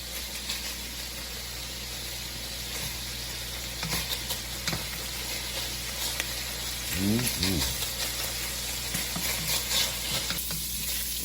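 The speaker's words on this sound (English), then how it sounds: "So remember, your first step is to render your bacon" Bacon renders in a pan for jambalaya, with a continuous soft sizzle and crackle throughout and occasional stirring scrapes. Someone talks quietly over the frying.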